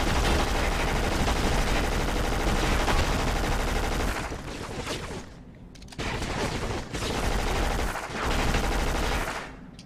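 Heavy, continuous gunfire from the PS2 shooter Black, with dense overlapping automatic bursts that briefly thin out before resuming at full loudness.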